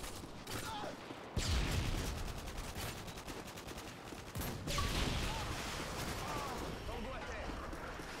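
Bursts of automatic gunfire and explosions in Call of Duty Modern Warfare 2, with a sharp loud burst partway through and another later, over sustained combat noise; a voice talks faintly underneath.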